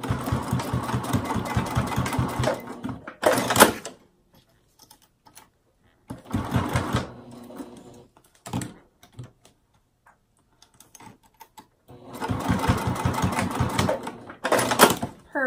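A sewing machine top stitches alongside a zipper on an ID badge holder in three steady bursts of rapid stitching, separated by quiet pauses and a few soft handling clicks.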